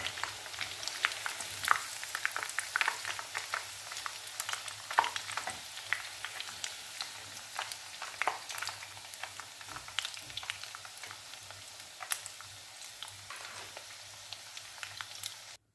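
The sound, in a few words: chicken frying in oil for biryani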